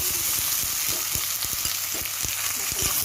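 Sliced onions fry with bay leaves and spices for an Assamese duck curry, a steady close sizzle broken by regular soft knocks and scrapes of stirring in the pan.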